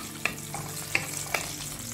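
Fennel seeds and garlic cloves sizzle in hot oil while a crab masala base is prepared. A steady close frying hiss runs throughout, broken by three sharp utensil taps. No one speaks.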